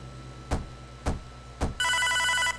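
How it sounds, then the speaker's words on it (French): A telephone rings with a bright electronic trill near the end, after three sharp thumps, loud and close with no talking. "Le téléphone."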